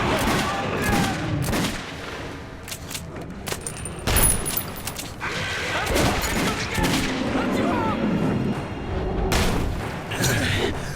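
Shots and booming blasts from a shotgun and other weapons ring out during a firefight in the game Metro 2033 Redux. They come in loud irregular bursts over about ten seconds, mixed with shouting voices.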